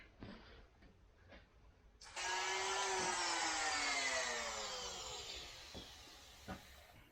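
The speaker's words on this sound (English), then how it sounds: "probably should just use a Dremel and a sanding disc to remove those" A Dremel rotary tool with a sanding disc spins up sharply after light handling noises, holding a loud, steady high-pitched whine that slowly winds down, with a few knocks near the end.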